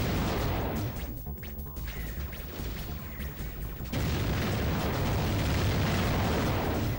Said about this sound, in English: Some explosions are a bit much.